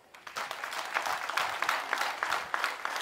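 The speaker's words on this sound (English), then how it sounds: "And I want you to appreciate with a big hand clap." An audience claps steadily at a health sciences institute graduation ceremony in Kagadi, a dense, sustained patter of many hands that swells quickly and carries on evenly at moderate distance.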